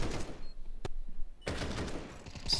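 Counter-Strike gunfire on the Anubis map during a professional match, a dense burst of rapid shots, then a gap with one sharp crack, followed by another sustained volley, fairly faint in the mix.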